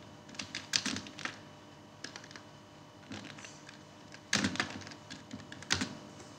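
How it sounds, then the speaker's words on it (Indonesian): Someone types on a computer keyboard while adding a subtitle in Canva, with close, quiet key clicks in irregular bursts and a pause between flurries, and no talking. "Nah di sini adalah kita ketik aja"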